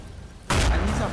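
An explosion set off underwater in Garry's Mod: a sudden loud, deep muffled blast that cuts in after a quiet moment and rumbles on briefly.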